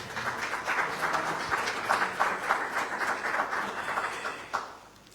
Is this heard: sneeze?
no